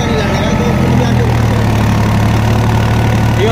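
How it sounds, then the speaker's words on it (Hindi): Tractor engine running at about 1900 RPM, a loud, steady, low droning rumble that stays constant and close throughout, with no talking. "वो देख लो 1800 चक्कर है ट्रैक्टर के, 1900 चक्कर हो रहे हैं ट्रैक्टर के"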